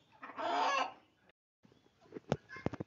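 Free-range hens, mixed-breed layers kept with a Label Rouge rooster on a small farm, clucking close by: one drawn-out vocal call, then a quick run of short, sharp clucks after a brief pause.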